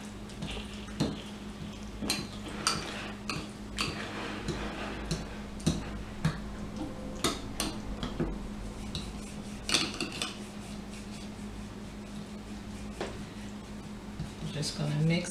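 A spoon or whisk repeatedly clinks and scrapes against a bowl while ingredients are mixed into a creamy copycat Chick-fil-A sauce, a steady irregular ticking of strokes under a voice talking.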